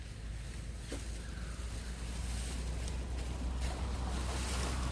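An Apollo eco4 HVLP sprayer turbine runs nearby with a steady, loud whirring drone that holds level throughout, alone and with no talking.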